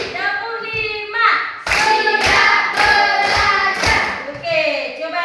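Schoolchildren in a classroom clap a five-clap pattern, five crisp, evenly timed bursts of hands together, close and loud, framed by adult and children's voices speaking just before and after.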